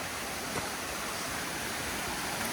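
A waterfall at the end of a hike rushes in a dense, steady roar of falling water, loud and unbroken throughout.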